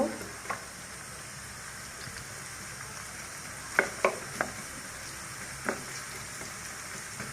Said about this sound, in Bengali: এখন আমি পেঁয়াজটা দিয়ে দিলাম। প্রথমেই ভালো করে আমি পেঁয়াজটা হালকা করে ভেজে নিব।